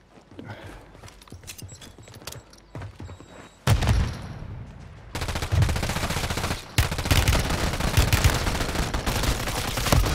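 Gunfire in the Call of Duty video game during a 2v1v1 fight: dense, rapid automatic bursts crackle loudly and continuously after a quieter opening of scattered shots, with no talk over it.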